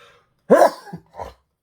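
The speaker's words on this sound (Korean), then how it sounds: "제가 이렇게 재채기 하는 것도 이것이 지금 가스가 걸려 있습니다" One sharp, loud sneeze bursts out up close, followed by a couple of smaller breathy sounds before silence.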